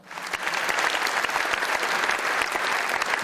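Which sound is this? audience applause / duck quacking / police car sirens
audience applause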